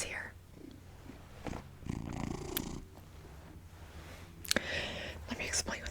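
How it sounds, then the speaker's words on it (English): A cat purring softly close by in a quiet room, a low steady rumble under a whispering voice, with a few small taps and rustles. "Oh, my cat's here."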